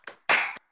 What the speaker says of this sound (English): let's give Dr. Reiff a big round of applause